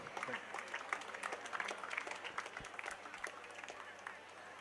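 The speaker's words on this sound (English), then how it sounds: "So let us give them a big round of applause for our Minister." A crowd at a school prize distribution applauds the minister, a faint, distant patter of many hands with sharper individual claps, steady under a hall's low hum and murmur.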